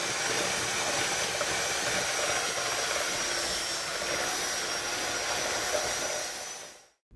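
Cheesecake filling with vanilla is beaten until creamy, a steady whirring mechanical drone held at an even level for several seconds before cutting off abruptly at the end.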